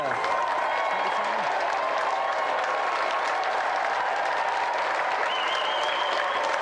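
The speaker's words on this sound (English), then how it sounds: "let's have another round of applause for the triumphant challenger, Simon Bland!" A game show studio audience applauds continuously, dense clapping filling the room at an even, enthusiastic level from start to finish.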